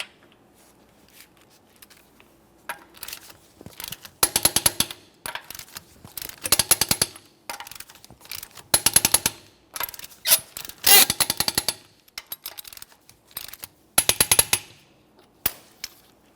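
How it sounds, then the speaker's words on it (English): Torque wrench tightening the wheel lug nuts on a 2015-2019 Subaru Outback in a crisscross pattern to 90 foot-pounds, heard as bursts of sharp, rapid ratcheting clicks separated by short pauses, fairly close and without talk. "We're going to be torquing these in a crisscross manner to that 90 foot-pounds"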